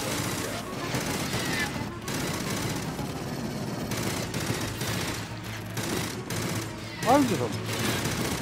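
Sustained automatic gunfire in the co-op shooter Aliens: Fireteam Elite, dense rattling bursts with brief gaps and a louder spike near the end, mixed with other game effects.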